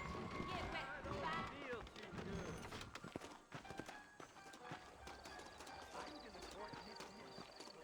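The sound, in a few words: horses trotting, Red Dead Redemption video game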